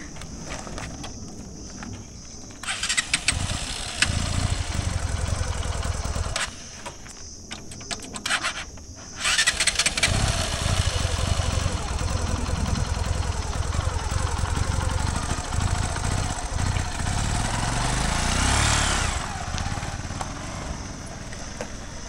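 A motorcycle that broke down near a forest destination in Lakuri Bhanjyang, Lalitpur, being started: a loud, rough engine running close with cranking bursts and brief drops before it settles into a steady roar, with no talk.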